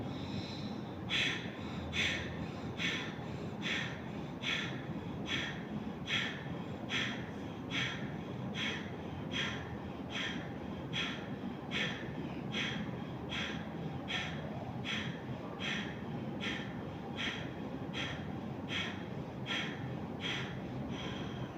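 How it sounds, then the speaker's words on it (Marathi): Forceful pranayama breathing through both nostrils, a long run of sharp, evenly spaced nasal exhalations about every second, each crisp and close, repeating steadily throughout. "पूर्ण श्वास घ्यायचा, पूर्ण श्वास सोडा, अर्धा श्वास घ्या आणि सुरू करा"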